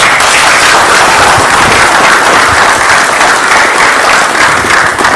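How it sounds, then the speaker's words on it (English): A room full of people at an officials' training camp session gives first-year officials a loud, sustained round of applause that keeps up steadily for several seconds, with no talking over it. "Everybody take a little bit of round of applause."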